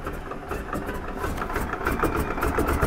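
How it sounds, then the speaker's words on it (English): Left radial piston engine of a Grumman Goose amphibian starting up, a rough, uneven low rumble that builds in loudness and settles toward a steadier idle, heard close with no talk. "Got to motor the left engine."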